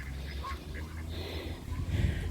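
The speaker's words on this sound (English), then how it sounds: "They're my baby geese" Baby geese, goslings from two batches of different ages, calling with soft, faint peeps and quacking-like chirps over a low background rumble, with no talking.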